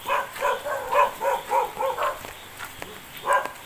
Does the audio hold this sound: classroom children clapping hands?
no